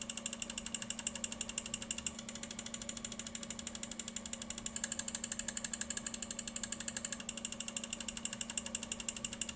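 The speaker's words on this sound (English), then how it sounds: "let's go ahead and drop a click test on all three of these mice" Lamzu Atlantis Mini computer mice with a new rose gold coating are clicked in rapid, evenly spaced succession, a crisp steady stream of muted ticks over a faint constant hum, with no voices.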